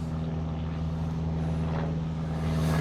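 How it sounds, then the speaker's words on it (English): A propeller airplane passes overhead near the water, a steady droning hum with a strong low tone that holds throughout and swells slightly toward the end, with no voices. "There is a plane overhead, so you can probably hear that pretty clearly."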